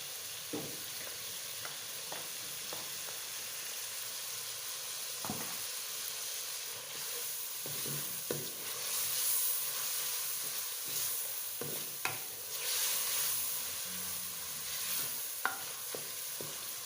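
Crushed ginger and garlic fry in a pan for chicken with capsicum, a steady close sizzle broken by repeated scraping stirs of a spoon.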